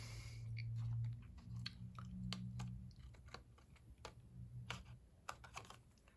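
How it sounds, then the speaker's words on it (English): Paper snips trim paper leaves for a handmade wedding card, a series of small crisp snipping clicks at an irregular pace, close and quiet, with a low hum underneath. "now I'm just going to get my paper snips"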